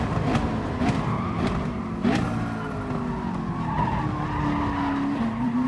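Tires squeal and skid under hard braking in a racing video game while chasing a Porsche, a long wavering screech over a steady engine drone, loud and continuous.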